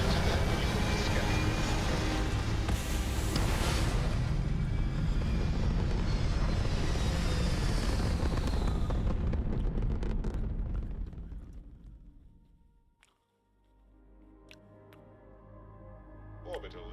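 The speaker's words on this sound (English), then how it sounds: "Liftoff initiated, Captain." A spaceship lifts off in the video game Starfield with a loud, dense roaring rumble that holds steady for several seconds, then fades away and gives way to quieter cabin hum with faint clicks.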